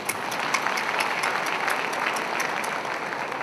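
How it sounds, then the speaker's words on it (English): A crowd at a 2013 ICCC annual awards and gala night applauds steadily, with dense continuous clapping filling the hall and no speech over it. "Another big round of applause, ladies and gentlemen."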